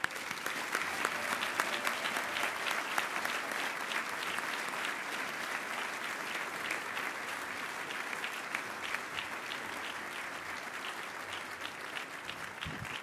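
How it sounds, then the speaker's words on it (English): A round of applause from dinner guests at an annual awards dinner, honoring friends and colleagues; steady, sustained clapping from a large room that holds evenly throughout, fairly distant and moderate in level. "Please join us in a round of applause to honor these remarkable friends and colleagues."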